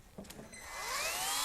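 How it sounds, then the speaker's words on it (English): A rotary grinder tool fitted with sandpaper spins up to sand down sharp staple stubs on plastic, its whine rising in pitch and swelling from quiet to a steady, fairly close buzz after a few light knocks. "We're going to use my grinder tool,"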